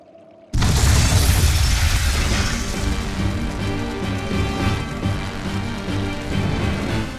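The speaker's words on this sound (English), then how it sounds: "Tools of flamestone, sulfur, and oil. Those will explode." Stores of flamestone, sulfur and oil explode in Tales of Berseria: a sudden loud blast that rolls into a long, sustained roar of fire and debris, with no talk over it.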